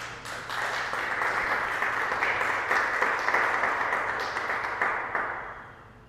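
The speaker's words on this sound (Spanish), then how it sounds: "Dele un aplauso al Señor." A church congregation applauds at a worship service, a dense sustained wash of clapping that swells quickly, holds for several seconds and then tapers off, with no voices over it.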